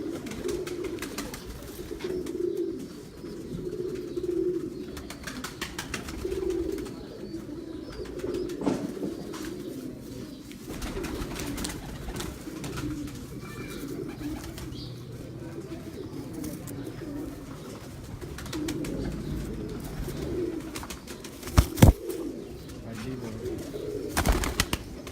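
Pigeons kept on a rooftop coo steadily in soft, repeated low phrases throughout, with a few sharp knocks and rustles near the end.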